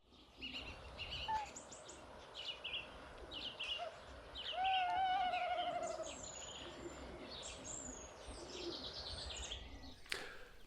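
A tawny owl calls in a quiet outdoor night setting, one drawn-out quavering hoot rising midway, faint and distant, while other birds chirp and tweet sporadically around it.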